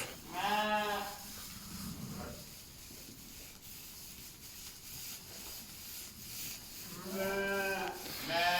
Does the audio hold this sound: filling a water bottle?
no